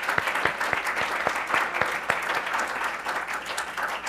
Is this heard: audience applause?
yes